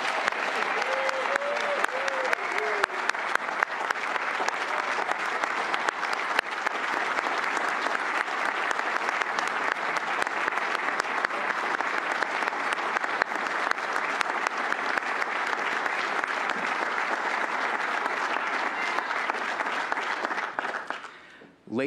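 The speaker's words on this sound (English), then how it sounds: "please join us in a round of applause for Lieutenant General James Richardson and General Laura" A large audience applauds steadily for Lieutenant General James Richardson and General Laura Richardson, a dense, even wash of clapping lasting about twenty seconds before fading out abruptly at the end.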